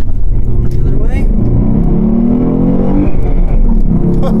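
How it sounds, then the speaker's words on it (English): A 2012 Ford Mustang V6 accelerating hard from inside the cabin, engine note climbing steadily through a gear with an abrupt, harsh shift into second, people talking over the loud drone. "That second gear shift is pretty harsh."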